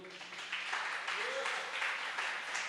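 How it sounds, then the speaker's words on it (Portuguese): Congregation applauding during a church service, a steady wash of clapping running through the whole stretch beneath a voice speaking over it. "Dê um aplauso ao Senhor"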